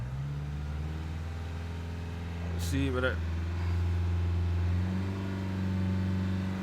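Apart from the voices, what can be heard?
Dacia Logan MCV 1.5 dCi diesel engine revving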